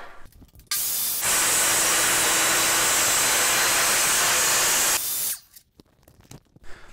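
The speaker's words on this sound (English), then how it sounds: "make our cut all the way through our miter fence" A table saw cuts all the way through a miter fence, a loud broadband rushing whir that spins up and holds steady for about four seconds before winding down, close by with no talking.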